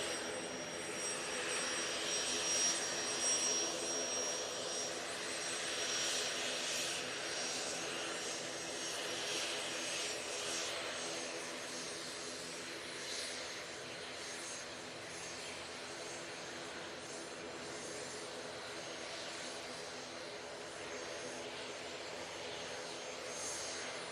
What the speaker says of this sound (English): A380 now coming on.